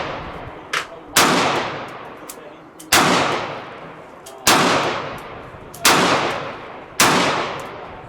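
Rock Island Armory 1911 pistol in 22 TCM fired at night, five sharp gunshots spaced about one and a half seconds apart, each loud with a short decaying tail, plus a faint earlier pop.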